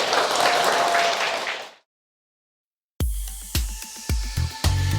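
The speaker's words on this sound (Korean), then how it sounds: "큰 박수 부탁드립니다." Crowd applause at a lecture fades out into silence, followed by a few scattered sharp knocks or thumps.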